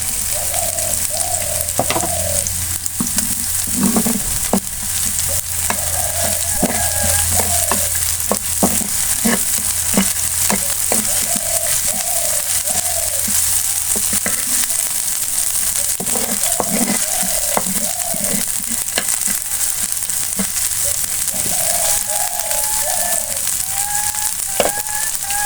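Onion frying in a pan with a paste of ginger, garlic and cumin, a steady close sizzle running throughout with repeated stirring scrapes; birds chirp faintly in the background.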